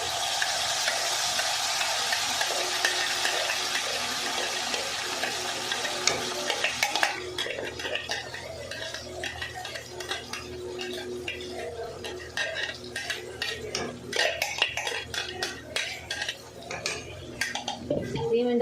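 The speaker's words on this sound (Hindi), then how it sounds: "इसको हमको जस्ट भूनना है 3 से 4 मिनट" Masala paste tadka with hing being stirred and fried in a pan: steady scraping and clinking of a spoon against metal over a soft sizzle, close, continuing for several seconds, with speech and background noise at times.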